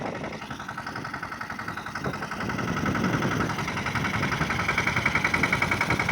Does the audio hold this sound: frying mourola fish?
no